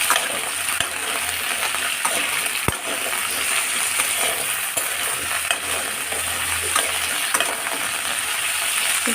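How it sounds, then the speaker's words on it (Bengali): Mixed vegetables frying in a kadai for a wedding-style mixed veg dish, a steady loud sizzle with occasional metallic clinks and stirring scrapes, no talking. "তো আমি এই সবজিগুলো এখন এই কড়াইতে দিয়ে ভেজে নেবো"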